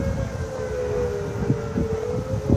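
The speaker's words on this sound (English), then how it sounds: "for some reason they shut off the tornado sirens, and then they came back on again." Tornado sirens wail outdoors during a growing funnel cloud, a steady droning tone heard at a distance with low rumbling underneath.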